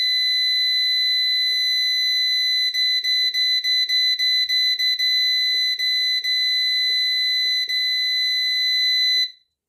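A new PowMr 3kW inverter under repair sounds its alarm beeper. The electronic tone is piercing and continuous and close by, broken by quick rapid stutters midway, then it cuts off abruptly near the end.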